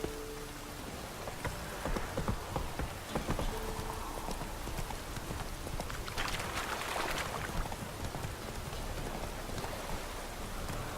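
Steady rain patters and hisses over hooves clip-clopping along, with a louder gust of rushing rain in the middle, in the video game The Witcher 3.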